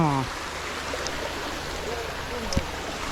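Continuous rush of water flowing in a canal, steady and close, with a few faint voices briefly heard at the start.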